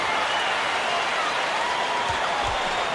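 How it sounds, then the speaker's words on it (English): Arena crowd noise from the College Basketball 2K8 video game: a steady, dense roar of cheering and applause throughout, with a couple of low thumps near the end. "Listen to the crowd burn."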